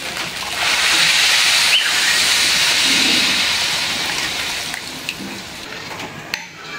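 Water poured into a hot pan of fried rice for khichuri sets off a sudden surge of loud steaming hiss that holds, then gradually fades into a softer simmer with a few faint clinks.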